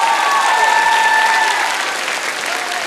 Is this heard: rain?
no